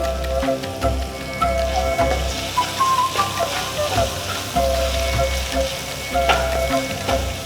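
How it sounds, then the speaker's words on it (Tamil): Onion and green chilies sautéing in a pan for ragi upma, a steady crackling sizzle with scattered stirring clicks and a low hum underneath, close and fairly loud, with no talk. "ஸோ வெங்காயம் ஒரு அளவுக்கு நல்லா வதங்கணும்"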